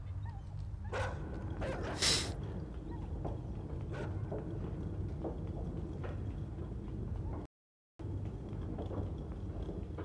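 Dogs in the video game INSIDE let out several sharp barks and yips over a dull, rumbling game ambience, with scattered thumps and a brief loud burst partway through.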